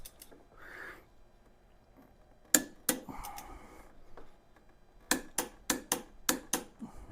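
A torque wrench tightens the front wheel bolt on a Honda GL1500 Goldwing, giving scattered close mechanical clicks and a quick burst of sharp ratchet ticks near the end, with no voices.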